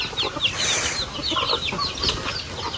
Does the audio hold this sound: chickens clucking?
yes